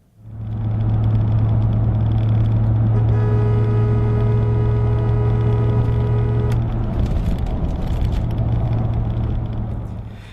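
A car engine rumbles steadily as the vehicle drives along, with a sustained horn note sounding partway through, heard from inside.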